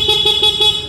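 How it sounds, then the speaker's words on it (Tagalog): A Kawasaki CT 125 motorcycle horn sounds in one steady, loud, close honk lasting about a second, with a slightly pulsing tone. "Try natin yung kanyang busina."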